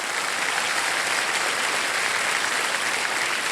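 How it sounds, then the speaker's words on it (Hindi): A television quiz show's studio audience applauds loudly and steadily, a dense, even wash of clapping that fills the whole moment with no talk over it. "तो विशाखा जी के लिए एक बार जोरदार तालियां बज जाएं।"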